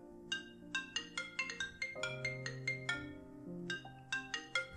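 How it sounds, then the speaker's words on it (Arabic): A mobile phone ringtone plays a bright, quick melodic tune of plucky synth notes over a soft sustained backing tone. It repeats clearly and alone, with no talking. "اللحظة اللي تحركات فيها ليلى صونا التليفون ديالها"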